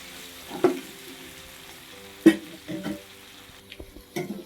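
Eggplant and potato curry being stirred in a pan, a faint low simmer broken by a few distinct scraping strokes and knocks of a spoon against the pan, with no voices.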